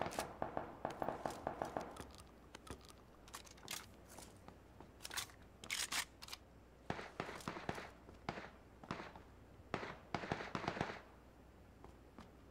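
Gunfire crackles through a battle royale video game, irregular bursts of sharp shots at moderate distance, some clustered in rapid runs and others spaced apart, with no talk over them.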